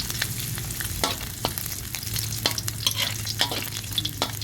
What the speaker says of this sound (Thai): พอน้ำมันเดือดเขาใส่กระเทียมลงไปก่อน